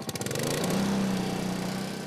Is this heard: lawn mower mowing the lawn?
yes